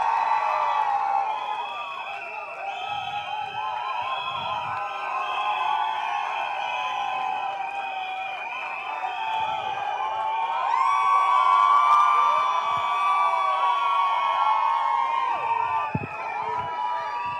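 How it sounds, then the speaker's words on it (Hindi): A crowd at a stage launch event for a Pepsi anthem applauds and cheers to welcome Ahmed Khan, a sustained roar of whoops under tonal background sound that swells midway. "जोरदार तालियों से स्वागत करें the one and only Ahmad"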